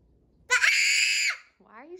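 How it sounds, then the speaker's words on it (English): Children scream together in a loud, sustained shriek lasting under a second, cutting off sharply, followed by a brief child's whine; the scene is a home where kids react to hearing their Halloween candy was eaten. "Why are you screaming?"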